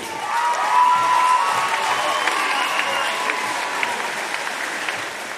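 Sustained applause from a large crowd at a volleyball awards ceremony, steady and enthusiastic, with scattered individual claps standing out near the front.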